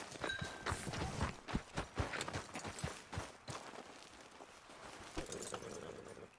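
Quiet, rhythmic clip-clop of horse hooves trotting at a steady pace in the video game Red Dead Redemption 2, with faint background sounds and no talking.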